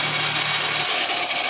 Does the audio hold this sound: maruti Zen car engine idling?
yes